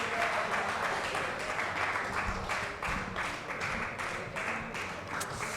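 An audience at an open mic event claps steadily, a dense patter of many hands at moderate distance, fairly faint, with individual claps standing out now and then.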